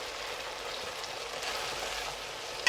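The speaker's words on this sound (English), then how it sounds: "We'll just fry the beef until we no longer see any redness in the beef." Beef sizzles steadily as it stir-fries in plenty of hot oil for a Chinese dry-fried beef ramen, a continuous close crackling hiss with no talk.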